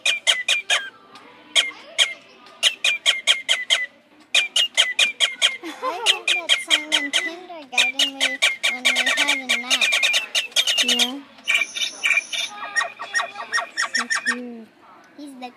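Several Digi Birds, Digi Owls and Digi Penguins electronic toy birds chirp in rapid, repeated trilling bursts, with tooting, warbling electronic calls and a high synthetic tone near the end, close and fairly loud with soft voices beneath.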